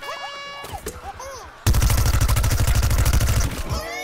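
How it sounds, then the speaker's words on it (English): Gunfire in Plants vs. Zombies: Garden Warfare starts with sudden force, a rapid stream of loud automatic shots for about two seconds. Whistly game effects and short voice sounds come before and after the burst. "he's really firing from the far"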